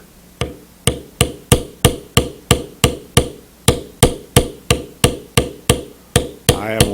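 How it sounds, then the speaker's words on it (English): A mallet taps a checkered beveler against leather while beveling along a straight cut, giving a steady run of about sixteen sharp, close knocks in even rhythm. "I am walking it by tapping it, and as I allow it to rebound, I can move it."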